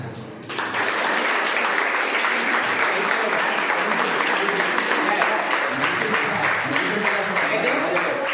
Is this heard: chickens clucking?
no